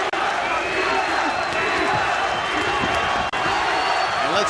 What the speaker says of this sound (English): Let's see how he responds to the swelling chants of the crowd